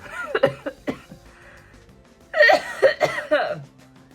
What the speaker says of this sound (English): I'm still coughing and my nose is dripping